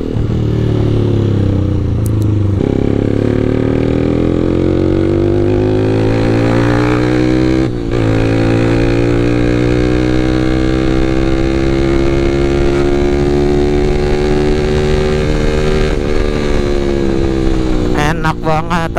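Motorcycle engine accelerating on a ride, a loud close drone rising steadily in pitch through repeated gear pulls, with brief drops between shifts and wind rumble throughout.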